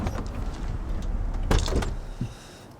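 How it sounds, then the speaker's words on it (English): The door of a 1967 Plymouth GTX 440 opens with a smooth latch click and a brief mechanical clunk, close up, followed by a softer thud as it settles. "These doors open like butter."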